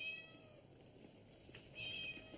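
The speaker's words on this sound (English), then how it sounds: "Well, Tim, I'm trying to get Mrs. Foley's cat Fluffy out of that tree." A pet cat named Fluffy, belonging to a neighbour and stuck up a tree, lets out a faint, thin meow against a quiet outdoor background.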